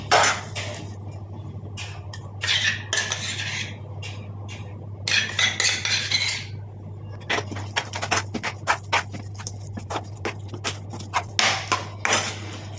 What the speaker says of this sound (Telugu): ఇక్కడ పాన్ కంటుకోకుండా సపరేట్ అయ్యేదాకా తిప్పుకుంటూ ఉండాలి.